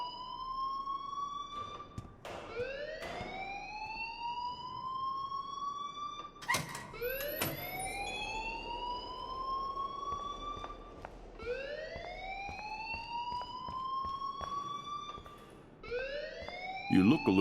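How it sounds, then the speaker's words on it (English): Rising, siren-like electronic fire alarm wails in the Life Is Strange video game, sweeping upward repeatedly in a steady cycle, loud and close, with a voice speaking briefly over it. "please turn off that alarm since that's your job"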